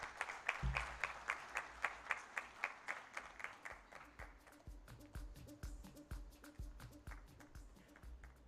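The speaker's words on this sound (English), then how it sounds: "another round of applause for our president of the Africa Tourism Board" An audience at a tourism expo claps in rhythmic, even beats that fade to quieter, scattered clapping, with a low hum and some faint voices beneath, heard from a distance.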